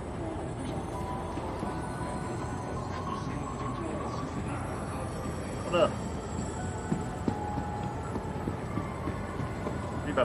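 A tram-like train in the Star Citizen video game rumbles steadily along its track with a continuous low roar and occasional faint clanks, heard alone without talk.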